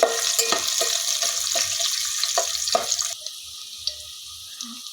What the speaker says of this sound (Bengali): রসুন দিয়ে দিলাম তো এটা আমি লাল লাল করে ভেজে নিব